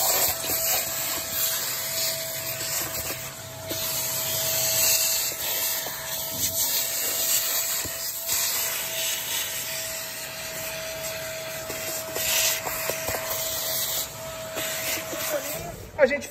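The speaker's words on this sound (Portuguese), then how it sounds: "Eu optei por usar o aspirador." A vacuum cleaner drones steadily with a high whine, its suction rising and falling as it cleans around a Mercedes C 63 AMG engine, while a person talks intermittently over it.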